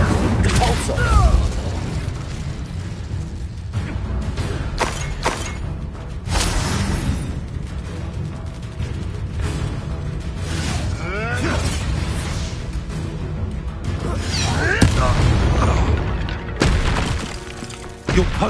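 Incendio fire spell and Depulso force spell cast in the video game Hogwarts Legacy: a run of whooshes, bursts, thuds and crashing impacts with some shattering, over a steady bed of game sound.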